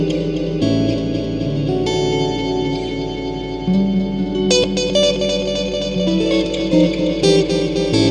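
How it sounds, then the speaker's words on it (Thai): Electric guitar notes run through a NUX NDR-5 Atlantic delay and reverb pedal, each played phrase trailing into repeating echoes and a long washy reverb tail, loud and alone with no talking. "ทีนี้ผมอยากลดรีเวิร์บมันนิดนึงมันอาจจะฟุ้งไปเพราะว่าดีเลย์ผมเยอะอยู่แล้ว"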